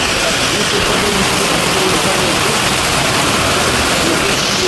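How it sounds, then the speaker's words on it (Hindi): A sudden heavy downpour pours outside a roadside hotel during a family trip, as a loud, dense, steady roar of rain that does not let up. "पानी देखो किस तरह जोरदार पानी गिरा"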